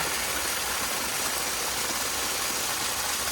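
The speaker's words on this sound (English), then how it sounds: "this water here is gonna meander down a little pathway" Water from an IBC tote runs down a small swale pathway in a permaculture garden, making a steady, continuous rushing trickle that stays even throughout with no voices.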